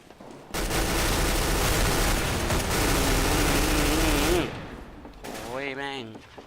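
Rapid automatic gunfire from the video game CS:GO, a loud sustained burst of about four seconds, then a short pause and brief speech.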